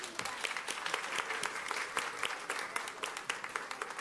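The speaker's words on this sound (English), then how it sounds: "Let's give them another round of applause" Audience applause at a school board meeting for elementary students, a dense, steady wash of many hands clapping throughout, with a few voices cheering beneath it.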